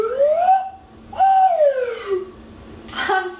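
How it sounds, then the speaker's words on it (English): Homemade slide whistle with a foam plunger, played in two long gliding tones that swoop up then fall, clear and close, followed by a brief breathy burst at the end. "now we'll test if this works as a slide whistle"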